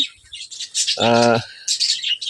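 A pet bird inside a clay pot breeding box gives repeated high, thin chirps close by, broken once by a brief harsher call.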